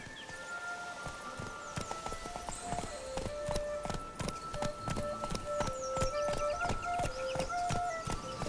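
Hooves of Roach, Geralt's horse in The Witcher 3: Blood and Wine, clip-clop in a steady walking rhythm, close and clear, with soft tonal game music lines running underneath and no talking.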